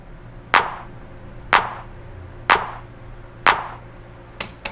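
A clap sample on a Pioneer DJS-1000 sampler plays four evenly spaced sharp hits about a second apart, then two quicker, softer hits at the end, crisp and dry with no voices.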